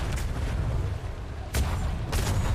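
Ship cannons firing at a brigantine in a naval roleplay game, several heavy booms over a constant low rumble, with a broad burst near the start and two strong salvos in the later half.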